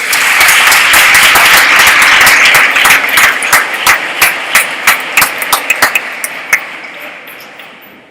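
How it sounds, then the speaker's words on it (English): Dense audience applause at a Model United Nations general assembly as a resolution passes, loud at first, thins into scattered individual claps and fades away. "this resolution has passed and clapping is in order"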